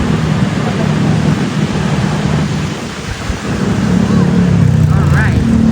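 Strong wind gusting at a beach in Baler, Aurora, a loud continuous rumbling roar buffeting close up with little letup, while a voice speaks briefly near the end.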